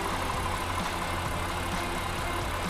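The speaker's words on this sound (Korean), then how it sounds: "엔진 소리 일정하네요" Honda Pilot third-generation 3.5 engine idling with the hood open, a steady low mechanical hum and faint ticking that stays even and close throughout, with no voices.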